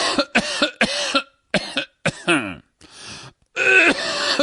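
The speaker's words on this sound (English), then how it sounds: "How long have you had that cough?" A voice acts out a bout of harsh coughing, several short hacking coughs in quick succession with strained, groaning breaths between them and a final rough burst, close and loud.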